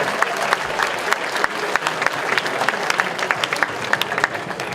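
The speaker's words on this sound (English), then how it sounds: "Applause, please." Convention audience at BronyCon applauding steadily, a dense wash of near claps with occasional louder individual claps, some scattered voices mixed in.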